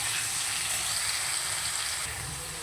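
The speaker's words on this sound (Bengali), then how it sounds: "আর এদিকে আলুটাও দেখো ভাজতে বসিয়েছিলাম" Potatoes frying in a pan, a steady close hiss and sizzle of hot oil holding evenly without pause.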